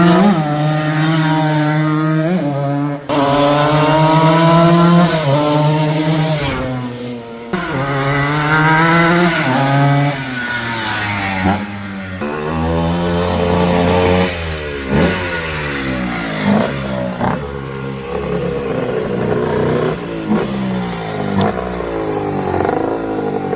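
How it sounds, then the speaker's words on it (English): A 1979 Suzuki RM100 dirt bike engine runs and revs close by, loud and alone. Its raspy two-stroke buzz climbs and falls through repeated throttle blips, with short dips between revs. "check out the class of 1979 Suzuki RM100."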